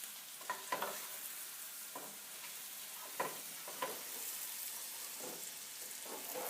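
Cajun cabbage frying in olive oil in a pan, giving a steady soft sizzle with scattered light crackles and stirring knocks; close by and fairly quiet, with no talking.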